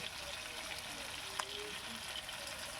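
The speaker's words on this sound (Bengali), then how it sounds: "ভেজে নিচ্ছি আলুর পেঁয়াজের সাথে" Potatoes and onions fry in a pan for a Bengali tangra fish dish, giving a steady close hiss and sizzle with a brief sharper crackle partway through.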